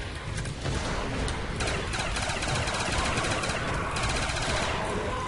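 Rapid automatic gunfire in the Call of Duty zombies map Kino der Toten, dense bursts of shots running continuously and loudly for several seconds with no pauses.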